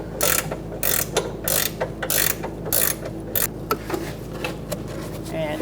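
A ratchet wrench clicks in quick repeated bursts while turning a stuck nut on a 2002-2006 Honda CR-V rear upper control arm, the ratcheting close and loud over a low background hum.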